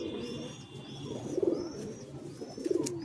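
Teddy pigeons coo in a low, throaty rolling rhythm, two or three bursts up close over a soft background of faint chirps, with no talk.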